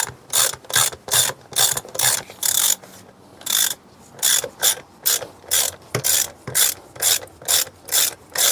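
Loud, close ratchet clicking as bolts are tightened on the intake manifold of an Opel Corsa Utility 1.4i, in a steady series of quick back-and-forth strokes with a brief pause midway, no voices.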